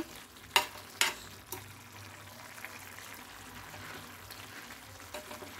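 Andhra-style dry prawn curry with gongura simmers and sizzles gently in a pan, a low steady bubbling hiss broken by a few sharp clinks of stirring near the start.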